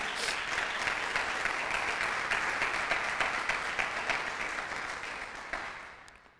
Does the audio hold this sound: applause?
yes